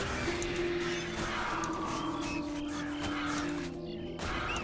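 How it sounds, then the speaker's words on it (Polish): Harpies screeching in the action role-playing game Titan Quest: Immortal Throne, a harsh cawing bird-like cry over a steady game soundscape with a sustained low tone, lasting several seconds before a brief dip. "I znowu harpie. Dawno harpie nie mieliśmy."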